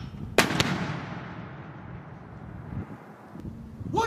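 A mortar fires from a military firing position: one sharp, loud blast followed by a long rumbling decay that fades over several seconds, with wind noise in the background.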